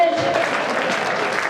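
Audience applause at a village fair poetry gathering (kavi sammelan) in Kishanpur, a dense, steady wash of clapping from a crowd, sustained and fairly loud throughout with a faint voice mixed in.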